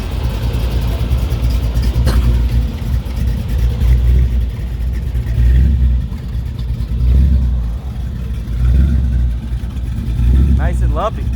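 A blown 350 V8 in a 1932 Ford hot rod sedan, fitted with a 671 Weiand blower and dual quads, idles loud and close with a lumpy, pulsing rhythm while voices talk over it.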